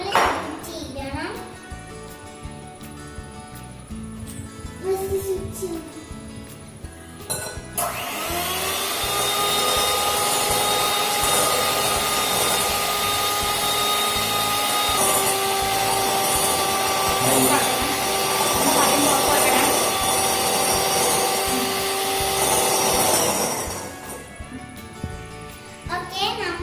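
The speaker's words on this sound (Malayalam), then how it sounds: "ഇനി നമ്മൾ ഇതിലേക്ക് മുട്ടയുടെ വെള്ളം ഒഴിക്കണം, ബീറ്റ് അയക്കണം." An electric beater whips egg whites in a bowl, a loud, steady motorized whir with rattling from the beaters that runs for about fifteen seconds before stopping, with quieter kitchen handling sounds before and after.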